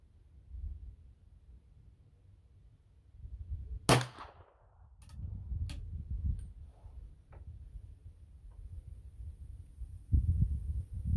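A Remington No. 2 sporting rifle chambered in .32 extra long rimfire fires a single sharp, loud shot, followed by a few faint mechanical clicks and handling noises against low background rumble.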